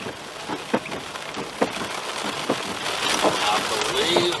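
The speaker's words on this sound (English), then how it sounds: "I believe there may be a little small rain." Light rain patters steadily on outdoor surfaces during a storm, a soft continuous hiss with scattered drop taps that grows slightly louder toward the end.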